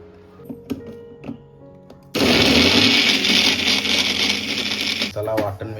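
After a few light clinks and taps, an electric kitchen mixer starts up and grinds masala paste ingredients for a stuffing, a loud, steady whirring roar that holds for about three seconds before cutting out.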